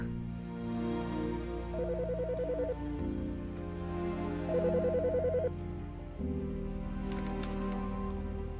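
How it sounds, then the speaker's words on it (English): A phone rings in the Autopsy Simulator video game, two bursts of a trilling electronic ringtone over a steady tonal music bed, fairly close and clear with no talk. "The fucking phone."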